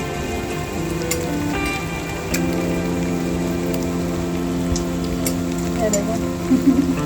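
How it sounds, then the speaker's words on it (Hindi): Steady rain patters on a surface throughout, a continuous hiss with a low hum underneath and a few brief sounds near the end. "क्योंकि ना बारिश की आवाज़ आ रही है"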